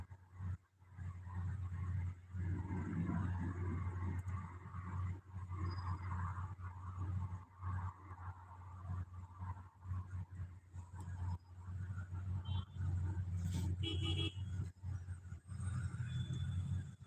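Busy road traffic in Dubai, a steady low rumble of engines and passing vehicles, continuous and fairly close, with faint higher noises drifting through.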